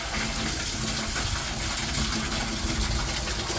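Water flows through the plumbing of a custom spray truck, a steady hissing gush that runs evenly and close throughout.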